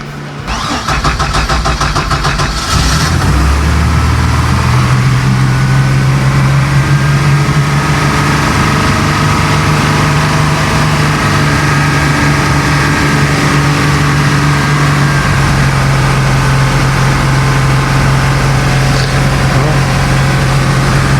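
A Bayliner boat engine cranks over briefly, catches and settles into a steady, loud idle that continues throughout, close by and with no one talking.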